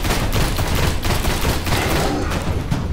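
A rapid-fire weapon blazing away in the video game Destiny, a dense, continuous stream of loud close shots with no pauses for about three seconds.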